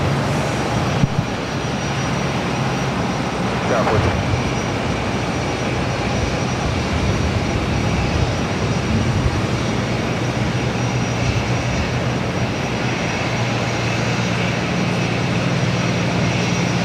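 Condor airliner arriving at Boston Logan airport, a steady broad jet-engine roar sustained for many seconds at moderate distance, with no talking.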